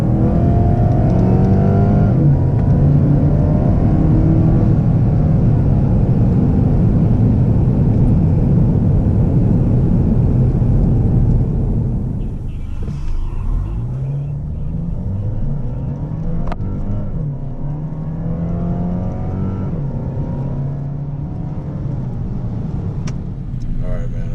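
Cadillac ATS 2.0T fitted with a ZZP throttle body, its engine loud and close as it revs hard under acceleration and then eases off, with speech from inside the car.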